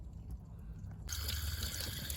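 Faint liquid trickles and drips through a clogged car heater core being flushed with drain cleaner, then a steadier, louder flow of water kicks in halfway through.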